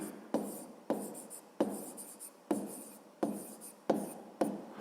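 A pen writes a math solution on paper in rhythmic scratchy strokes, about seven repeated bursts each starting sharply and fading, close and clear with no talk.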